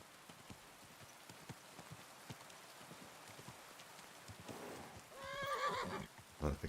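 A horse in a video game plods with soft hoofbeats through steady rain, then lets out a loud, unhappy whinny near the end.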